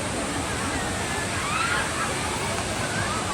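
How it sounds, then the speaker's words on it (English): Waterfall at Tian di park in Changzhi, Shanxi, a steady broadband roar of falling water that holds constant and fairly close throughout, with faint voices of visitors in the background. "waterfall, okay? So I guess this is one of the main attractions of this park in Changzhi."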